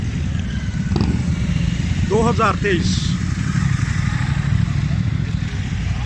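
Motorcycles in a bike rally rumble steadily and loudly throughout, a continuous engine drone with a brief whistle-like sound partway and voices audible over it.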